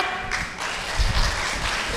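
A crowd at an outdoor political gathering claps with raised hands, a dense wash of applause that swells briefly with a few heavier thumps, with no one speaking.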